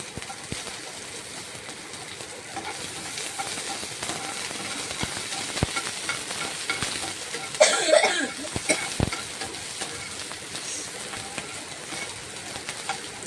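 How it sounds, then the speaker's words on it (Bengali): Onions fry in a pan with a steady soft sizzle, and a louder burst of crackle comes partway through, close up and with no talk over it. "দেখতে পাচ্ছ এখন পেঁয়াজ ফ্রাই হয়ে যাচ্ছে তারপর কাঁচামরিচ দিয়ে দিলাম"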